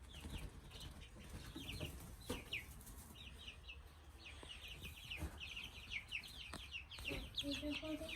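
Chickens cluck and squawk repeatedly on a farm as a man catches one, the calls faint and scattered over background noise with occasional wing flaps and quiet voices.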